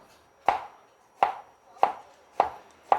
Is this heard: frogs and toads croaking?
no